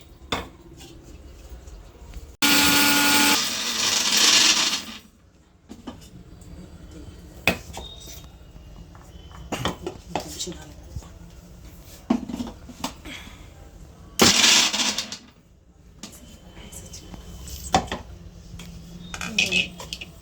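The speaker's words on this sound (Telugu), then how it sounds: "ఫస్ట్ వీటిని మిక్సీ పెట్టుకోవాలి." A kitchen mixer grinder grinds mustard, fenugreek and cumin seeds for gongura chutney in two loud, harsh bursts, a longer one and then a short one, with clinks of a jar and utensils between them.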